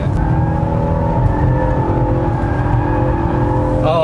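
A Honda Accord 2.0T sedan engine hums steadily under load while accelerating, a smooth, even drone with a slight rising whir, heard from inside the cabin.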